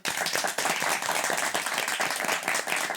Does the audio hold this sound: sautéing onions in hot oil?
no